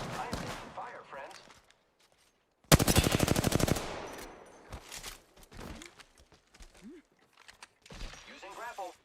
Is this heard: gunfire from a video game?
yes